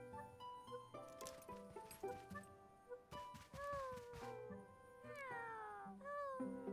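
A cat meows repeatedly in the cute farming video game Paleo Pines. The rising and falling cries come over busy game music and sound effects, with several calls close together near the end.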